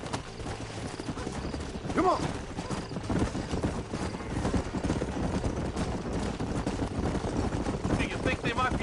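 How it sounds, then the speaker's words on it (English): Horses galloping in Red Dead Redemption, a fast continuous clatter of hooves under a busy game soundscape, with a brief whinny and a voice shouting over it. "Get on your horse, boy! Follow me!"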